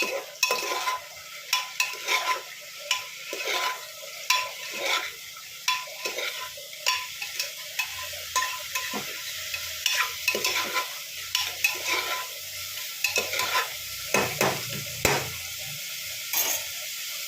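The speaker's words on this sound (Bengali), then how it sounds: "একটু ঢাকা দিয়ে এটাকে একটু সামান্য ভেজে নেব।" Dalia fries in a pan and gets stirred over and over, with sharp scraping strokes on a steady sizzle and occasional clinks of the spoon. It is close and fairly loud, and no one speaks.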